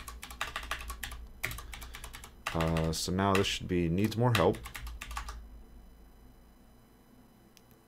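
Rapid keystrokes on a computer keyboard, clattering in quick bursts between stretches of someone talking over them, then trailing off into quieter tapping.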